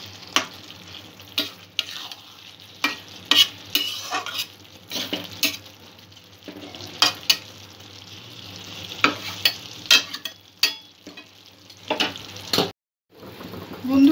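Chaal potol, a pointed gourd and rice curry, sizzles in a pan while a utensil scrapes and stirs it in repeated bursts, close and clear over a steady frying hiss.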